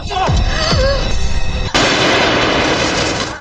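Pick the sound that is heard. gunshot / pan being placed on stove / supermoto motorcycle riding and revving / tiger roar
gunshot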